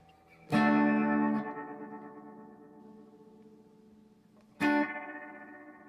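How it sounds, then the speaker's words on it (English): Guitar chords ring through a spring reverb unit with tremolo, two strummed hits spaced a few seconds apart, each swelling loudly and then decaying into a long shimmering tail. "So here's the tremolo."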